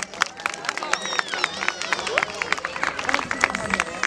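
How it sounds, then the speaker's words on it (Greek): A crowd claps at an outdoor Christmas tree lighting ceremony in Lefkada, Greece, a brisk patter of many hands spread through the space with murmuring voices mixed in. "Έχουμε ετοιμάσει και θέλω ένα χειροκρότημα για τον Λεωνίδα τον Πάλμο, παρακαλώ."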